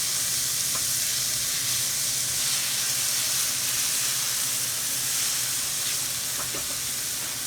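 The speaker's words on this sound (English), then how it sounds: "And we're going to start sauteing that" Stuffed zucchini filling sautés in a hot pan, a loud, steady sizzle and hiss that runs throughout, with occasional faint scrapes of stirring.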